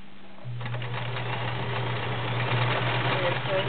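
A vintage 1931 Kenmore convertible free-arm sewing machine stitches fabric, starting after a brief pause and then running as a steady low motor hum with a fast, even stitching rhythm, close and fairly loud.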